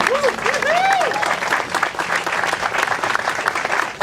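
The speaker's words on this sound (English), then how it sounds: "We need a clap on that." Loud, sustained crowd applause at an outdoor groundbreaking ceremony for an affordable housing loft development, with a few rising whistles near the start before the clapping carries on steadily throughout.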